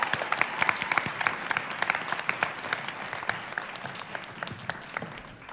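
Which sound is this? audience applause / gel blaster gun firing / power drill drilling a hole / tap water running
audience applause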